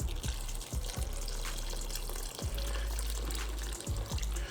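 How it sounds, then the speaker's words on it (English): Meat broth is poured into a pan of bread dressing, a steady liquid splashing and trickling sound with a few soft knocks, close and alone without talk. "That broth from that meat we cooked earlier, pour it on in there."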